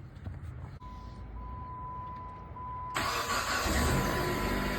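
A 2007 Jeep Compass with the 2.4 engine, fitted with a new starter, cranks and catches at about three seconds. The start comes as a sudden loud broadband surge and then settles into a steady, close idle with no one talking.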